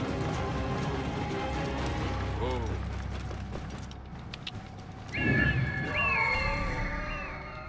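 A horse in Assassin's Creed Origins clip-clops and whinnies near ruins, steady hoofbeats under an ambient game soundscape, with a sharp neigh rising near the end.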